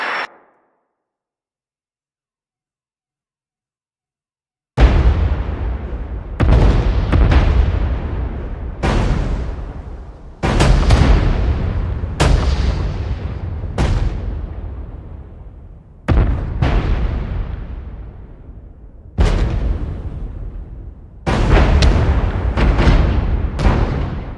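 Artillery fire in a first-person shooter game: after a short silence, a long series of heavy booming blasts strikes at uneven intervals, each one loud and close with a rumbling decay.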